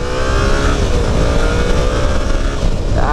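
A Yamaha Tracer 700 motorcycle engine pulls hard under acceleration, its rising drone steady and loud for about three seconds with wind rush mixed in and no talk over it.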